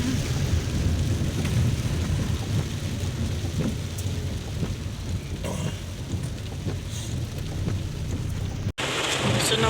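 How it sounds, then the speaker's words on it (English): Heavy rain pours down steadily in Jamaica with rolling thunder rumbling through, a dense continuous roar with no voices, cut by a brief break near the end. "It's raining like, really raining like crazy."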